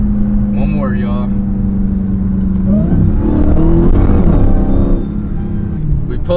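Dodge Hellcat with its mid muffler deleted pulls hard in second gear, a loud steady engine drone that rises in pitch partway through, with a voice speaking briefly over it.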